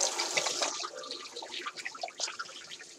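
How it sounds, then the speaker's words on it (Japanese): Tap water runs steadily and close by while a young yellowtail (inada) is rinsed before drying, splashing and gurgling throughout without a break. "ちょっと洗いまして、ね。 まな板も洗いまして、"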